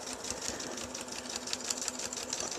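Sewing machine running steadily while stitching in reverse for a back stitch, a continuous close mechanical whir with a rapid needle clatter throughout.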